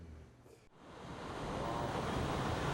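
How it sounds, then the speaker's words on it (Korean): Ocean waves breaking on a beach, a steady broad roar of surf that briefly dips and then swells louder and fuller, heard alone with wind noise. "해변에서 부서지는 파도는 태양에서부터 전달되어 온 파도의 에너지가 소멸되면서 나타나는 현상이다."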